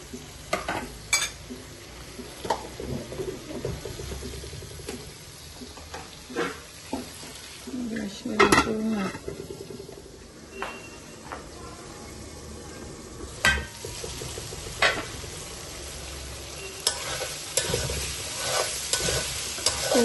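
Vegetables with eggplant sauté in a pan for a curry, a steady sizzle and fry under repeated stirring and scraping of a utensil against the pan, close up, with occasional clinks and no talking.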